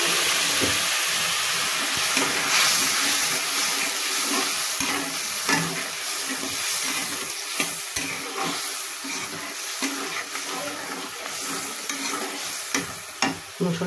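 Spices frying in a pan as coconut milk is poured in for a pointed gourd curry, a loud continuous sizzle and hiss with stirring scrapes, easing slightly toward the end, no voices.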